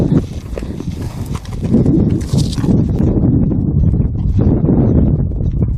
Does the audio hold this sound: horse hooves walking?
yes